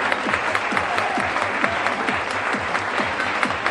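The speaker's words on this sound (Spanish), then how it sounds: "Por favor, un fuerte aplauso." An audience gives a strong round of applause for a DJ teacher at a music school presentation: thick, continuous clapping from a crowd, loud and sustained throughout.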